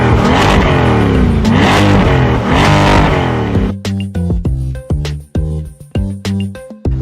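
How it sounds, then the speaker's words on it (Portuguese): A Lamborghini engine revs hard through several long, rising roars up close, then gives a string of sharp, short throttle blips with crackling gaps between them. "ele fala que vai mostrar para ela o ronco do motor e pede para ela ir lá atrás e escutar o barulho da máquina"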